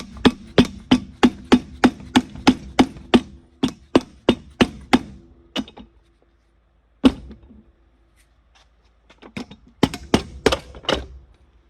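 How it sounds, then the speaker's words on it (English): A rapid, steady run of hard hollow whacks from a mallet on the plastic housing of a vintage Tristar CXL, then a pause, a single strike, and a final quick burst of blows. "Nothing a hammer won't solve, or in this case a mallet."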